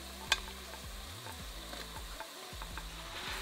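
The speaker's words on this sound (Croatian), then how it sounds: "I sada ću krompir promiješati" Potatoes and onion fry in hot oil while being stirred in a pan for a Bosnian-style potato pie, giving a steady close sizzle with scraping stir strokes and a sharp clink near the start, with no talk.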